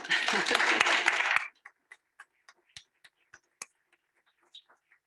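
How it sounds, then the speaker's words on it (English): An audience at a school district board meeting claps for recognised employees, a dense burst of applause for about a second and a half that breaks into a few scattered, fading single claps. "Maybe we could clap for them."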